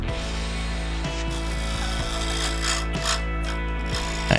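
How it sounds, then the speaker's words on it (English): Shear scraping on a claret ash live edge bowl spinning on a lathe: a steady droning hum with a continuous scraping rub, plus faint rhythmic ticks each revolution as the tool meets the uneven live edge. "just coming around with a shear scrape, trying to get rid of some of those issues that I'm seeing."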